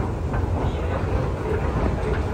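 Istanbul metro train running, a steady low rumble with faint rail clatter filling the interior throughout, continuous and fairly loud with no talk.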